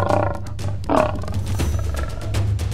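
A toy lioness figure plays a recorded roar, a loud, rough growling cry that swells and rolls on for nearly three seconds with no talking over it.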